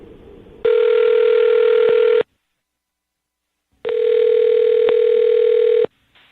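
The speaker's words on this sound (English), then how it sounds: "I'm going to dial the phone over right now" A telephone rings while a call is placed, two long, loud, steady electronic tones with a silent gap between them.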